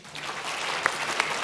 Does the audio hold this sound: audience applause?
yes